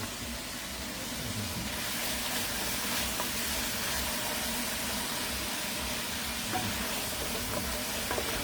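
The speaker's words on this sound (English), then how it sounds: "frying up that Bangamarry saltfish first" Steady sizzling of Banga Mary salted fish frying in a hot pan with shallots, a continuous crackle with no talking.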